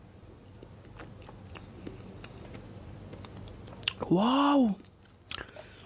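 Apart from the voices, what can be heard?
biting and chewing mangosteen fruit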